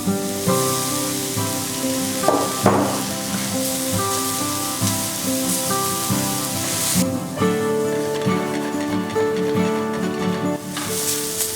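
Carrot, cauliflower and onion frying together in a pan for a vegetable lollipop snack, giving a steady close sizzle that runs throughout beneath a tonal musical background, with no talking.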